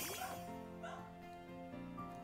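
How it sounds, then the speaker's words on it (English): Pomeranian yips and barks in sharp, high bursts, a few quick barks close by with a whimpering tone, over a faint musical backdrop. "you guys are about to hear my dog bark"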